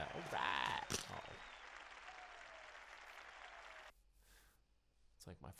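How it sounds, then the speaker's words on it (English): Game crowd cheering and applause in Nidhogg on PS4 rises loudly under excited talk at the start, then thins into a long fading wash of crowd noise before dropping away, with a few sharp bursts returning at the end. "People cheer for me."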